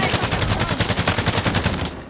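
Rapid automatic gunfire in the Call of Duty video game, a dense run of sharp, evenly spaced shots fired in one sustained burst that ends abruptly just before two seconds.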